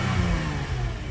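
A Lexus IS250 engine runs close by, a brief, steady mid-pitched hum with a faint rise in revs and no voices.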